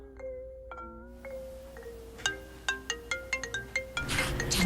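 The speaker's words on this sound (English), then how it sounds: "the phone woke you up" A phone ringtone plays as part of a simulated hallucination, a melodic electronic tone sequence that shifts into a run of rapid plucky beeps, close and clear, ending in a rising noisy swell.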